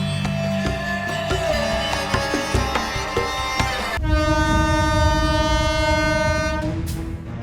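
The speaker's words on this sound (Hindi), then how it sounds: "सर ट्रेन आ रही है" A train pulls into a station with a loud, sustained horn blast over rumbling wheels and rail clatter, up close and dominating, then a second horn chord sounds, with no speech.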